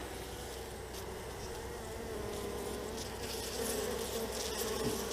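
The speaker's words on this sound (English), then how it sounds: "with that many bees" Honey bees fill the air with a dense, continuous buzzing drone around an opened hive during an inspection, steady and close, with no talking.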